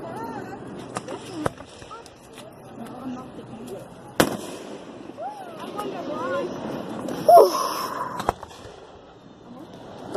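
Occasional distant Fourth of July fireworks bang sharply among chattering voices and background noise, with a few booms spaced several seconds apart.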